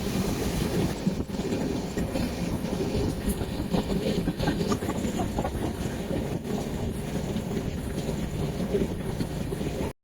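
Overnight Uttarbanga Express from Sealdah to New Jalpaiguri crossing the Farakka Barrage gives a steady, unbroken roar of wheels and rushing air, heard from inside the carriage for the whole stretch.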